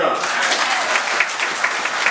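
A church congregation at a Sunday worship service applauding, dense continuous clapping from many people filling the room, loud and even throughout with faint voices mixed in.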